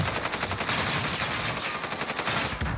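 Rapid automatic gunfire in a video game rattles in a steady, fast stream of closely spaced shots aimed at the player, sustained and fairly loud before cutting off near the end.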